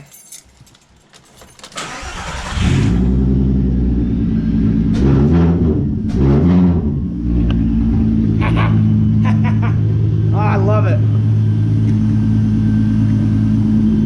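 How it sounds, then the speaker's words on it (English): A car with a newly fitted front lip and new brake line starts up, then rumbles and revs as it pulls out, engine loud and near for most of the clip, with a brief spoken remark. "watch me drive out so I don't just slam this thing out on the ground"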